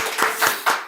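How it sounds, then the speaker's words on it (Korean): A church congregation at a Sunday service claps for a birthday, a rhythmic run of full, close group claps landing roughly every quarter second in a brief burst. "오늘 예지 생일 축하의 박수 한번 보내드립니다."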